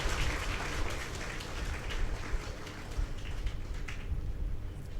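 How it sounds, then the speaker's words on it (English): Audience applause at a felicitation ceremony in Pernambut, a dense, steady wash of clapping filling the room for about five seconds without pause. "please give him a round of applause"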